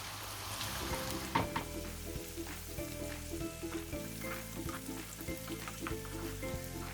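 Cumin seeds sizzling in hot oil as a tadka for an egg and lentil curry, a busy crackle and spatter with occasional sharper pops and stirring scrapes, close up and without speech.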